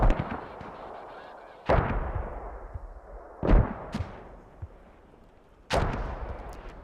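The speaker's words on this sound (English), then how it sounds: "So now mortars coming in." Mortar impacts and gunfire in a competitive video game match, with three loud booming blasts spaced a couple of seconds apart, each trailing off into rumbling echo between shots.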